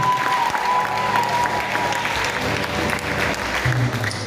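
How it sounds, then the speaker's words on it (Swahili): Church congregation clapping together during a worship service, a dense, loud round of applause filling the room continuously for a few seconds. "Tuwapigie makofi jamani"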